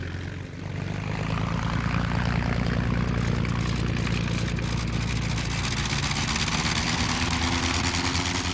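Early German military aircraft taking off in archival film, their propeller engines giving a loud, continuous droning roar that swells after the first second and holds steady throughout, with no talking.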